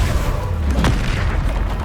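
A Depulso spell blast in Hogwarts Legacy on PC gives a deep, rumbling boom that fills the moment, with a brief burst near its middle and a sustained low roar.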